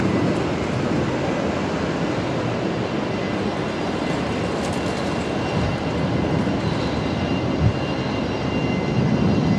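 China Airlines Airbus A350 jet at Brisbane Airport: a loud, continuous broadband engine roar stays steady and even throughout, with no talk over it.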